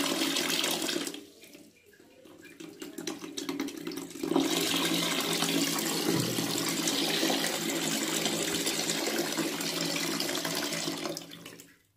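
Water runs into an overflowing toilet cistern, a continuous rushing fill that drops off briefly near the start, then surges back loud and steady before cutting off at the end.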